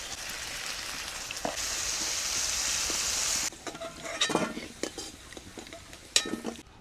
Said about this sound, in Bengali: অল্প নুন হলুদ দিয়ে আলুগুলোকে লাল করে ভেজে নেব।